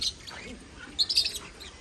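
A zoo parrot gives a few high, quick chirps close by, brief bright calls over faint background murmur.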